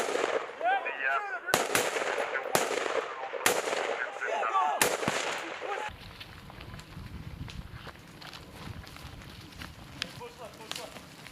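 Military video game gunfire from a fight on Gotland Island: sharp, loud individual shots crack at irregular intervals, then a denser rattle of distant firing and movement continues while voices talk over it.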